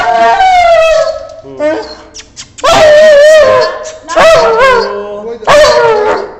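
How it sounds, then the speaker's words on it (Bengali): An aggressive, biting dog close by whimpers in long, high, wavering whines, then gives several sharp yelping barks, with a person briefly speaking nearby. "এই ডগটা প্রচুর সাংঘাতিক ডগ প্রচুর কামড়ায়"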